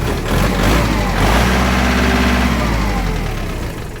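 A Kubota 47-horsepower tractor engine idles nearby with a low, rumbling drone, holding an even pitch throughout with a faint rise partway through.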